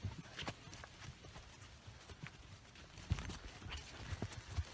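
A small black pony's hooves clip-clop in an uneven, fairly quiet rhythm as it is led out along a path, with soft footfalls scattered across the stretch and a few sharper strikes near the end.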